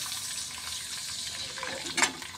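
Water poured into hot oil with crackled mustard seeds for a dhokla tempering gives a soft, steady hiss and sizzle, close by, swelling into a brief louder burst near the end.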